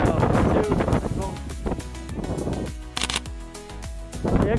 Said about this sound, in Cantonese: 幾誇張，超大風！